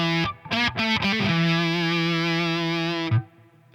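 Gibson SG electric guitar through a Tone Bender 2 fuzz pedal: a few quick picked notes, then one thick, buzzing sustained note that rings for about two seconds before being cut off, loud and close.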